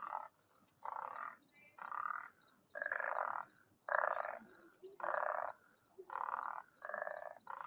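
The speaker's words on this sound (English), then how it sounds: "A frog." A frog croaks in a faint, regular rhythm, with about eight buzzy croaks of similar length, each separated by a short gap.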